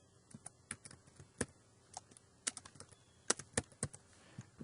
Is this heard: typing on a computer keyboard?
yes